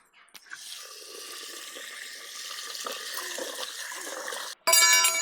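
Rinse water pours steadily into a Pongal pot, a continuous splashing stream that builds slightly, then a sudden cut to a louder, brighter ringing sound at the end.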